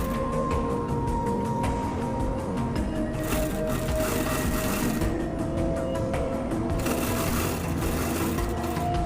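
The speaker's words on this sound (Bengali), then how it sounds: "এভাবে বসিয়ে আমি ফেব্রিকটা সেলাই দেব।" A sewing machine stitches fabric for a sleeve design, running in rapid rhythmic bursts with brief pauses between runs, close up and clear with no voices.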